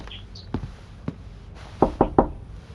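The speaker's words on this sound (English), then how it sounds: "Should I knock on the door," Knocking on a door in the audio game Evidence 111: a few isolated sharp knocks early, then a quick cluster of three louder raps near the end, close and clear with no talking.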